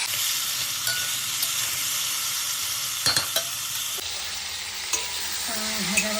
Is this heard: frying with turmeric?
yes